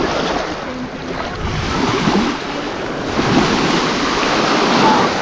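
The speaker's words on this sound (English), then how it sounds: "This is a super nice beach." Waves wash onto the sand at Airlie Beach in Australia in a steady, broadband surf roar with gentle swells of loudness and wind across the microphone; no one speaks.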